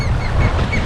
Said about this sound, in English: Jeez, loud birds.